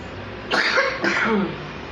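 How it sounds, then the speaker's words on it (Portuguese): Two rough, breathy coughs close together, loud and close, with no talking around them. "Eu comecei a tossir."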